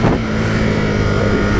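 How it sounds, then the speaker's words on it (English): A 2018 Ducati Monster 821 motorcycle engine runs in touring mode, a loud, close, steady throbbing drone with a slight swell at the start and no talking. "The engine sound, do you hear that difference?"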